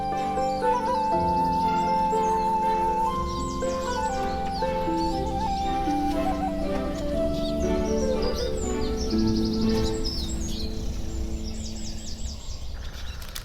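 A Eurasian penduline tit calls in a riverside poplar setting with a series of thin, high chirps and whistles, fairly close, over a steady background of other bird song and ambient noise.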